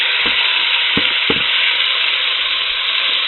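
Sirloin searing in avocado oil in a Dutch oven over medium-high heat, a loud steady close sizzle with a few soft knocks of meat or utensil against the pot, no talking.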